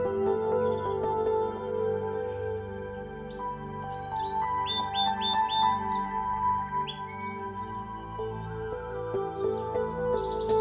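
Birds chirp and call in the Japanese countryside, bright trilling notes scattered over a steady bed of sustained tones that carries through the whole stretch.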